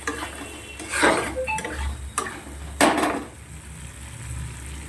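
Spoon scraping and stirring masala spice paste with potatoes in a pan while cooking a large katla fish curry; a few distinct close scrapes and clinks over a soft background hum, no talking.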